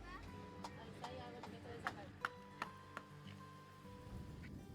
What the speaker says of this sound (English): Yeah, that horse working hard.